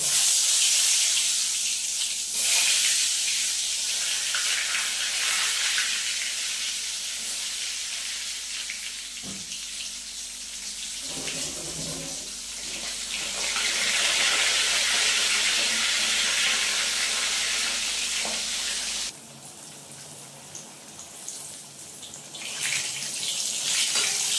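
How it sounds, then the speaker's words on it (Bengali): Pointed gourd marinated with salt, turmeric and chilli powder frying in hot oil, a loud continuous hiss and crackle that swells and eases, then drops briefly before resuming. "বন্ধুরা, আমি পটলটাকে সুন্দর লাল লাল করে ভেজে নেব।"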